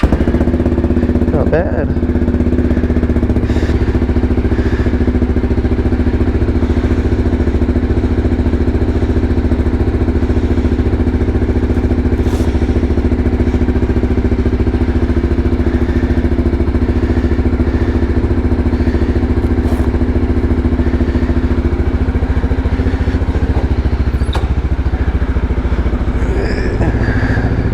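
Motorcycle engine cold-starting and settling into a steady, rough mid-pitched idle that runs loud and close throughout, with a brief voice heard over it.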